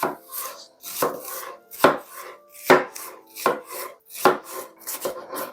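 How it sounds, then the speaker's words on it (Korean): A knife chops vegetables sharply on a cutting board, about seven steady strokes spaced roughly a second apart, close and clear with no talking. "손바닥 한 마디 정도 길이로 요 정도 길이로 썰어 주시면 됩니다"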